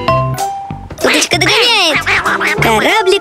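A cartoon duck's bright, squeaky quacks bounce over cheerful children's cartoon music with bell-like tones, loud and close during a race.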